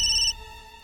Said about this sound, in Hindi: खबरी सर का फोन।